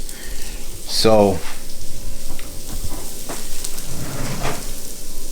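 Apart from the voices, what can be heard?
butter, garlic and onions sizzling in a pan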